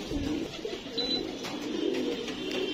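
Pigeons cooing on a rooftop, low soft coos repeating steadily against a constant background wash, moderately close and without talk.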